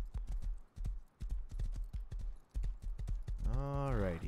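Horse hooves clip-clop steadily in the video game Rust, a quick repeated rhythm close by, then a horse neighs near the end.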